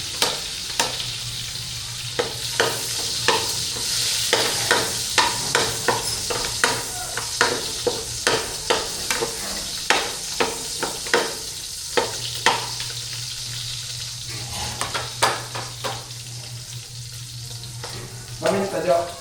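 Garlic and other ingredients fry in a hot pan for a black bean and bitter gourd leaf dish, with a steady close sizzle broken by frequent scraping stir strokes throughout.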